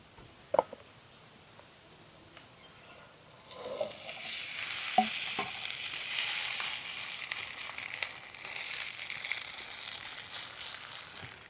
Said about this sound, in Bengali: এইবারে কড়ার মধ্যে এই পাতাটা দিয়ে দেব।